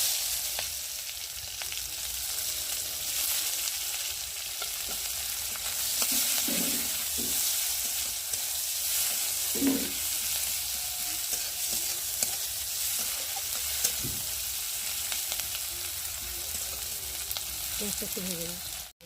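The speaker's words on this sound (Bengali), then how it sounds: "এখন কড়াতে তেল দেবো, এবার দিয়ে দেবো কুচানো পেঁয়াজ" Chopped onions fry in oil in a kadai, a soft continuous sizzle with occasional stirring knocks and scrapes of a spoon, close by and fairly quiet, no talking.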